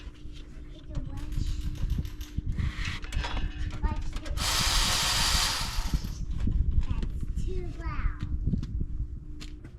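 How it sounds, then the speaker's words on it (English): A cordless ratchet whirring in short bursts while fitting an aftermarket bumper on a Jeep JK, mechanical buzzing under ongoing speech and background noise, with one longer continuous run in the middle. "That's that cordless ratchet."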